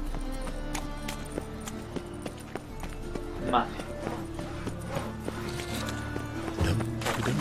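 Horse hooves clip-clop in a rhythmic gallop within The Witcher 3 video game, riding steadily under game ambience while someone speaks Spanish.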